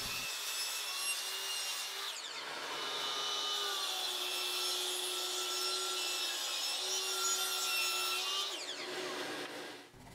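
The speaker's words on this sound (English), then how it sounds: "now I can cut all the pieces down to their final length and height over at the miter saw" A miter saw cuts steadily through wood for about eight seconds, a continuous whining rasp that starts abruptly and stops, close and fairly loud.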